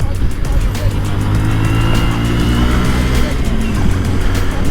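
A 2022 Honda Monkey motorcycle ridden hard, its small engine droning loud and steady close by with constant wind rush throughout, no voice over it.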